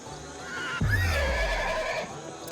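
Horse in the video game Ancestors: The Humankind Odyssey giving one loud, close neigh that starts abruptly and trails off into a long whinny, with no talk.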